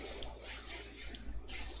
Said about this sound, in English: I really can't emphasize enough spraying from like this very bottom angle in black